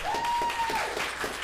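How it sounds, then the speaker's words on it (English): Brief burst of audience applause for a panel at a New York event, a short even patter of clapping with a faint tonal whine running underneath. "let's give a round of applause to our amazing"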